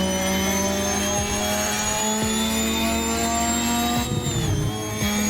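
Veilside RX-7 engine in a driving video game, a steady high whine winding up like a jet engine, with sustained tonal layers and a slight pitch shift near the end, loud and alone.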